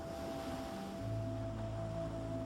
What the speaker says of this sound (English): waves breaking on the sandy shore